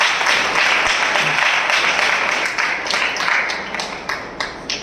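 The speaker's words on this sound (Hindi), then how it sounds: "हम जोरदार तालियों से उनका स्वागत करें" Loud, dense applause from an assembly at a spiritual meeting, hands clapping continuously throughout with a few sharper claps standing out near the end.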